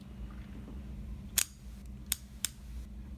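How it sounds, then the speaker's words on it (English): Three sharp, separate clicks of a car-repair socket ratchet being turned, its internal gear teeth clicking over a low background hum, spaced unevenly, fairly quiet. "if you turn the drive, you'll hear a click."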